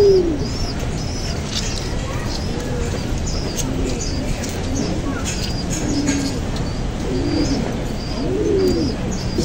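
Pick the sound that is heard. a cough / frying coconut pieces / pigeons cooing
pigeons cooing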